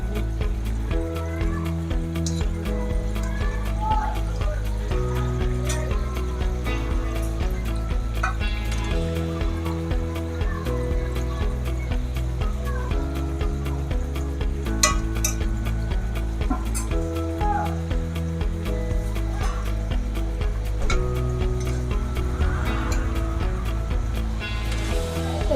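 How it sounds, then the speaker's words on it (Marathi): Several fasting-style kachoris deep-fry in hot oil, producing a dense, continuous sizzle and crackle that stays steady and fairly loud throughout, with faint occasional clinks. "याला आपला गोल्डन ब्राऊन कलरवर फ्राय करून घ्यायचे आहेत."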